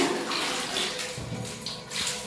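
Water is poured over a bathtub during a deep clean of a bathroom, a steady splashing gush with no pauses across the short stretch.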